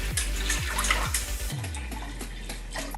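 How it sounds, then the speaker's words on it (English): Water pours into a cooking pan for boiling pink lentils, a splashing faucet-like stream with a few clanking knocks of the pan early on, then a steady rushing flow close by. "Add the water in the pan."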